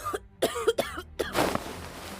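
An elderly woman gives a series of harsh, loud coughs, three or four close together, followed by a raspy breath.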